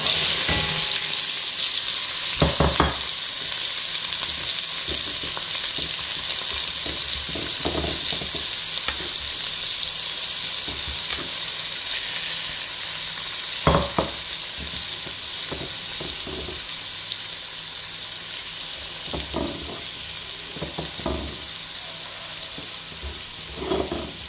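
Three medium red onions hitting very hot oil and frying, a loud, continuous close sizzle that eases slightly over time, with occasional stirring scrapes and knocks, no talking.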